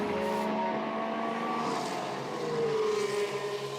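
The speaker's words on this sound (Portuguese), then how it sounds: "O carro sai da pista, né, faz aqueles barulhos, o fundo batendo, os pedriscos, né?" A Formula 1 car runs off the track onto gravel during 2019 Italian Grand Prix qualifying, its high engine whine sliding in pitch over a rough, gritty rumble, heard from a distance.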